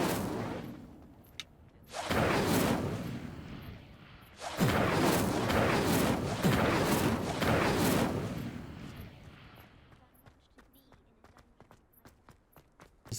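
Fire spell cast in Hogwarts Legacy, a loud crackling, roaring burst of flame with sharp impacts that swells, pauses briefly, surges again for several seconds, then fades into scattered faint clicks.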